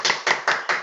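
Applause from an audience at a group achievement day event in a hall, heard as four loud, evenly spaced bursts of clapping with no talk over them.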